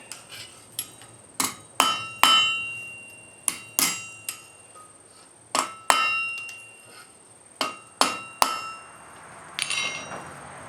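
A hammer strikes metal at an anvil while an old punch is forged into an arrowhead, giving sharp ringing clangs in irregular pairs and singles, close and clear, with quiet gaps between blows and no talk.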